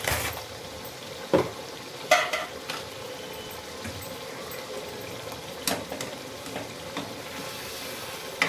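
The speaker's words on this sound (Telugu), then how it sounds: "ఇప్పుడంతా బాగా కలిపేసుకోవాలి." Telangana-style chicken fry sizzles quietly in a pan while a spoon stirs it, giving a few sharp scrapes and knocks over a soft, continuous frying hiss, with no voices.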